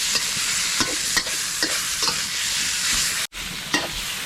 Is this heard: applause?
no